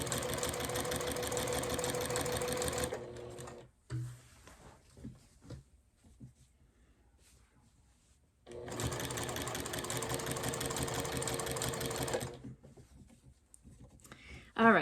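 A sewing machine stitching binding onto a quilt runs in two long, steady bursts of rapid close mechanical whirring, separated by a quiet pause with small handling taps.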